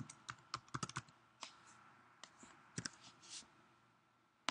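Typing on a computer keyboard during a dictation exercise, with scattered soft key clicks in short irregular clusters, close but quiet, and no one speaking.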